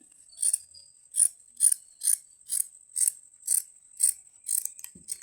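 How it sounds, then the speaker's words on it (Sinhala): Regular snipping of scissors cutting fabric for a four-panel tight-fitting skirt, about ten crisp, close cuts at a steady rhythm with no talking. "ඊට පස්සේ අපි මේකට මැහුම් වාසි තියලා කපමු. මම ඔයාලට කපලා පෙන්නන්නම්."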